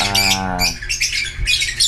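Harsh squawks from a pet bronze fallow bird, a burst of raspy calls followed by shorter repeated squawks, close and loud with no talking.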